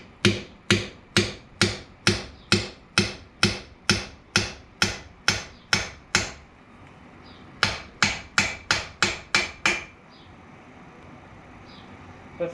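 A hammer strikes a chisel against an axle seal on a ZF APL-365E axle of an AGCO 9650, with sharp metallic blows at an even, steady rhythm. A brief pause breaks the run, the strikes resume, then stop.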